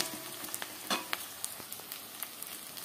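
Onions fry in a pan with a little sugar, a continuous soft sizzle broken by sharp clicks and scrapes as a utensil stirs them, close and moderate in volume with no talking.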